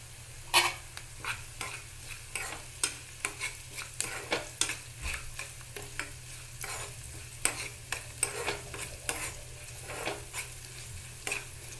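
Potatoes frying in oil with curry leaves, turmeric and salt, a close, steady sizzle broken by frequent rhythmic scraping and stirring strokes in the pan.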